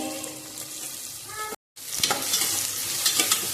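Onion, curry leaves and garlic paste frying in a pan, a close, loud sizzle with busy stirring scrapes, briefly cut to silence midway before the crackling frying resumes even brighter.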